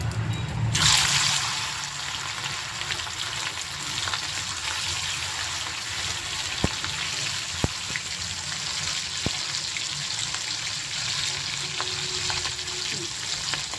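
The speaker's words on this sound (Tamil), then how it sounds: "எண்ணெய் கொஞ்சம் நல்லா சூடேறிடுச்சு. நம்ம ப்ரானை போட போகிறோம்." Prawns for home-style Prawn 65 go into hot oil, setting off a loud, dense, continuous frying hiss after an initial splash, with a few sharp utensil taps along the way.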